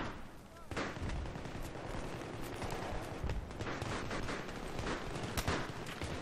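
Sustained Battlefield 3 gunfire rattles almost without pause, dense overlapping shots and bursts at moderate loudness, with a voice talking over the shooting.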